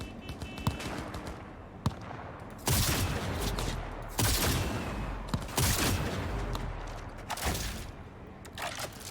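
Gunfire in the video game Cyberpunk comes as repeated bursts of automatic fire with sharp individual shots, loud and close, broken by short pauses, with no talk over it.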